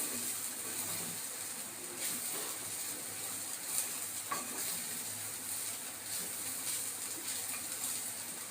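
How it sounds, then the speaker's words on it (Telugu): Carrot and grated coconut frying in a pan while being stirred, giving a steady broadband sizzle with faint scraping stirs throughout and no talking. "వేసుకుని ఒకసారి బాగా కలిపేసుకోవాలి."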